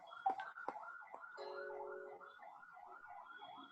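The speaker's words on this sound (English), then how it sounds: "I believe some ambulance is going near to your office, or some police van." A distant ambulance or police siren wails and warbles steadily in the background, rising and falling continuously while a few brief knocks sound nearer at the start.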